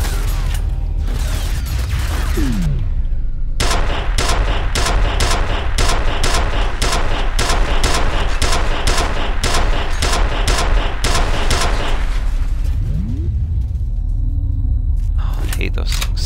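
Automated turrets fire in the shooter game F.E.A.R., a long loud run of rapid evenly spaced shots with mechanical whirring before and after the burst and a second, shorter burst near the end.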